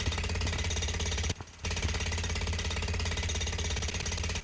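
In the Gorilla Tag video game, a construction hammer pounds in a rapid, loud, continuous jackhammer-like rattle. There is one brief pause before the pounding resumes.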